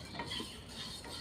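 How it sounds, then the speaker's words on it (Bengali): Around twenty dried chilies dry-roasting in a pan, with a soft scraping stir and faint rustle, quiet and brief with no talking. "এটাকে আমি ড্রাই রোস্ট করে নেব ভালো করে"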